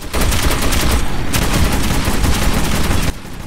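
Sustained, dense gunfire in the post-apocalyptic shooter Metro 2033 Redux during an armored car fight, loud and continuous rapid bursts for about three seconds before cutting off abruptly.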